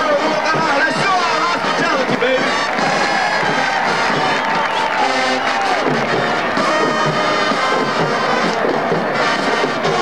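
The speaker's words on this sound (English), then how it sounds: "let's give them a round of applause" A large crowd at a marching band night cheers and claps loudly and continuously for a high school marching band, a dense roar of voices and applause with scattered shouts throughout.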